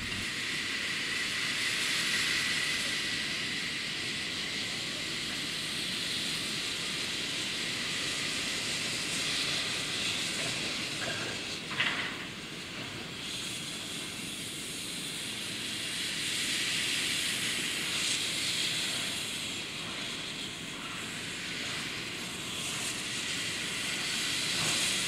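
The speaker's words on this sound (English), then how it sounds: "Another train of slate wagons gets carefully underway, headed by double Fairlie," The double Fairlie steam locomotive Merddin Emrys, on the Ffestiniog Railway, gets a train of slate wagons slowly underway, giving a steady, faint, hissing rumble with a brief sharper burst midway.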